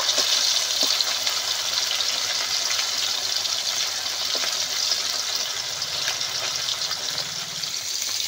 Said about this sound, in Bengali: প্রথমে কিছু মাছ দিয়েছি, ভেজে নেব।